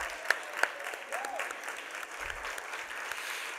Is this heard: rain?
no